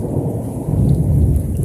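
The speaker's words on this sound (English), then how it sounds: "watch lightning almost hit me" Loud rolling thunder from a nearby lightning strike during a storm near Eunice, Louisiana, rumbling heavily and swelling over steady rain.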